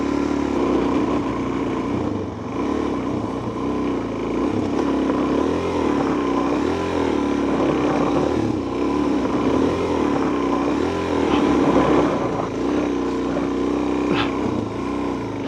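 Dirt bike engine grinding steadily up a dirt hill climb in first gear, a loud continuous drone with small rises and dips in revs throughout, close and unbroken.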